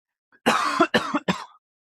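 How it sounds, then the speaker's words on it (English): A close fit of three harsh coughs in quick succession, loud and dry, with a short pause between each burst. "Why am I coughing so much?"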